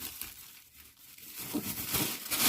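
A plastic bag holding quick-pickled cucumbers is knotted shut by hand, giving close, steady crinkling and rustling that grows louder toward the end.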